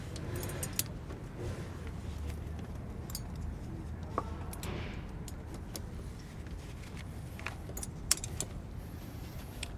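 Titan tire chains with cams being laid out around the wheel of a 2021 Ram 2500 pickup, with scattered metallic jangles and clinks of chain links close by over a low background rumble.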